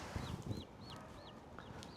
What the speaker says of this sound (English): these are just barnyard mix egg chickens